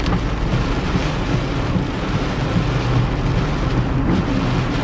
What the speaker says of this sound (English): The storm is really here, or it's close by.